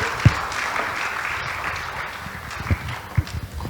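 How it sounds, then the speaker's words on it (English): Audience at a panel session on industrial infrastructure and SEZ development applauds, a fairly steady wash of clapping with a few sharp low thumps standing out near the start and end. "Please, a round of applause."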